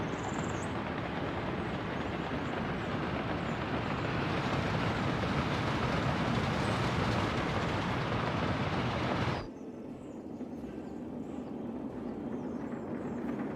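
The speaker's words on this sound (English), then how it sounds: "There's the other passenger train." A passenger train in the Workers & Resources: Soviet Republic video game rumbles past with a steady, loud, broadband roar that drops abruptly partway through to a quieter continuous running noise.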